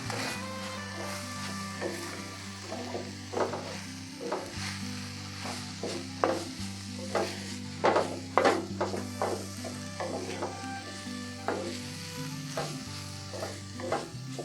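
Minced onions sizzle in a pan on the stove for a 1969-style chicken stuffed green peppers recipe, with a soft steady frying hiss broken by repeated scraping stirs of a utensil at close range.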